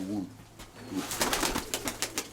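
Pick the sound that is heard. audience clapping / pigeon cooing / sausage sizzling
pigeon cooing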